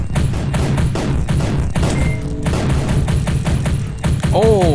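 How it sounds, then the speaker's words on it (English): Rapid triple-shot weapon fire in the video game Mother Machine, a dense stream of loud repeated blasts and impacts with game music and effects layered throughout. "I've got like a nice triple shot going on now"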